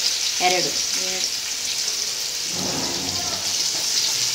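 Onions frying in oil in a pan, a steady bright sizzle throughout, with a voice speaking briefly at the start and again later.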